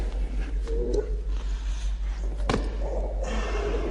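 An eerie Enderman from Minecraft makes a faint, warbling, growl-like cry over a steady low drone, broken by a couple of sharp knocks.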